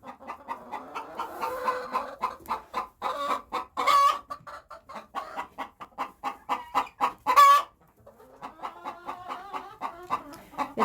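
Hens in a barnyard coop cluck busily and continuously, with a dense overlapping chorus of short repeated calls close by and a couple of louder squawks standing out.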